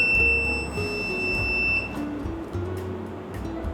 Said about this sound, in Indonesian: buzzer akan berbunyi